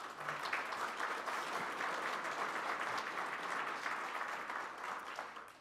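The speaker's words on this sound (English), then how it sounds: "let's give them a round of applause" Steady audience applause at a Rotary Club of Tulsa awards meeting, a dense, even wash of many hands clapping that holds at moderate level for several seconds without a break.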